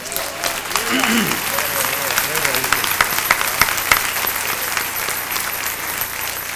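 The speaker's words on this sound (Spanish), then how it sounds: "Dale un aplauso a Jesús de Nazaret." Audience applause at a Spanish-language Bible lecture, a steady sustained patter of many hands clapping throughout, moderately loud, with a voice briefly heard over it near the start.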